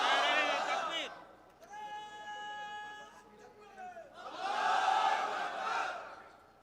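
A crowd at a Bangladeshi religious gathering led by Mufti Kazi Ibrahim chants the takbir, loud massed voices swelling in two bursts around a long sustained sung tone in the middle.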